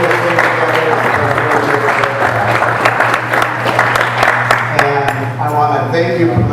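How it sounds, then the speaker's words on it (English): A crowd applauding steadily, dense clapping that holds for several seconds, with a faint tone ringing through near the end. "a special applause for Pilar because she's the one that really"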